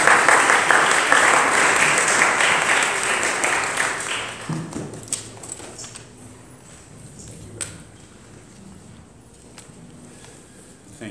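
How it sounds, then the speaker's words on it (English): A church congregation applauds a guest speaker, the dense clapping strong at first, then thinning into scattered claps and fading out over several seconds. "let's clap our hands for Dr. Lura Daniels-Ball"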